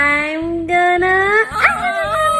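A dog whines in long, rising and falling tones, breaking into a few sharp yips and a short bark in the middle, close and fairly loud with no talk over it.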